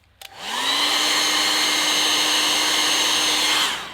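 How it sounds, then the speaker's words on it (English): A hairdryer starts with a click and runs steadily at full blast for several seconds, drying alcohol ink artwork, a loud close whirring rush with a steady tone before it cuts off near the end. "get your hairdryer"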